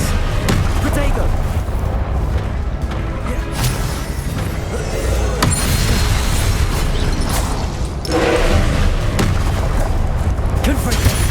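Confringo spell blasts and combat effects in the Hogwarts Legacy video game, a dense, loud, continuous barrage of booms and bursts under shouted spell names.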